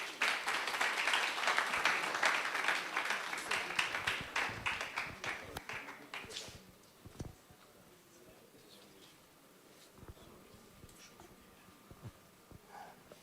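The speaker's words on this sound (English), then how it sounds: "Shall we please welcome him with a round of applause?" Conference audience at an emergency medicine society gathering applauding to welcome a plenary speaker: dense clapping that swells for several seconds, then thins out into scattered claps and quiet.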